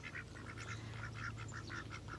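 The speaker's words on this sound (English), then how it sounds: "watch my ducks go crazy" Several farm ducks quack in rapid, overlapping bursts, a busy excited chorus over a low steady hum.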